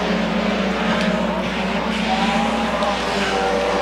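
Sportmod race cars roar around a speedway during a heat race, a steady, loud wash of engine noise with a commentator's voice over it.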